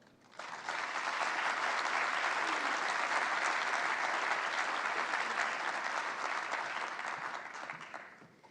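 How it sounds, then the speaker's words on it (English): Sustained applause from an audience at a building sustainability event, rising quickly to a loud, dense, even wash of clapping that holds for several seconds before tapering near the end. "Let's give another round of applause"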